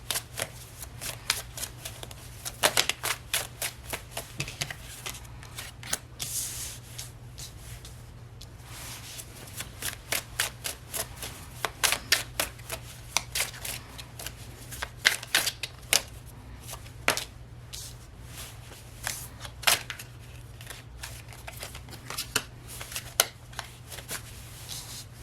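Close, crisp riffling and slapping of a deck of oracle and tarot cards being shuffled, in uneven repeated bursts over a faint steady hum, with no talk.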